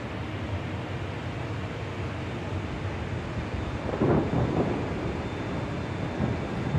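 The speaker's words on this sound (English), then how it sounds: "Wow, major thunderstorms here" Simulated thunderstorm in the flight simulator X-Plane 12 around a Boeing 747-8F, a constant heavy roar of rain and wind with a deeper rolling swell of thunder partway through.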